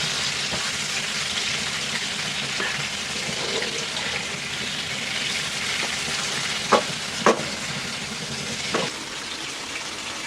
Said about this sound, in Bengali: মাছগুলি ভাজা হয়ে গেছে, এখন আমি নামাই ফেলবো।